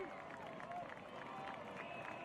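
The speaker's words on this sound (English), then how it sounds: "Crowd getting loud." A boys' varsity high school football crowd rumbles with building cheers and chatter near the end of the first half, a steady, fairly distant roar of voices with scattered shouts.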